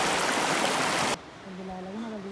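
A stream flowing down from a waterfall off a mountain lagoon in Tierra del Fuego, a loud close broadband rush for about a second before cutting to quieter flow under someone speaking.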